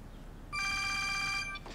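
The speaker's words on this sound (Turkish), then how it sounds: "Telefon çalıyor." A phone rings once in a bright, warbling electronic trill for about a second over a quiet room background, with no voices.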